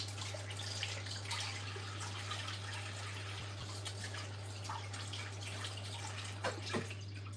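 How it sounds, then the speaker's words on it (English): Tap water runs quietly while celery is washed, a faint, steady trickle with a few soft splashes and drips near the end, under a constant low electrical hum. "Now I'm gonna wash some celery."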